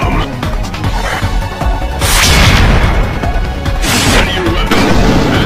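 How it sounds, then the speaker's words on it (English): Red explosive drum shot and blowing up in the video game Resident Evil: The Mercenaries 3D, loud booming blasts with crashing bursts over busy game noise, with a voice speaking partly underneath. "Target and shoot the drum."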